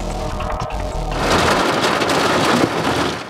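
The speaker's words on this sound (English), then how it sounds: "The lightning drove us out much earlier than anticipated." Heavy rain in a thunderstorm, a low thunder rumble at first giving way to a loud, steady wash of rain pouring onto surfaces nearby, continuous and without talk.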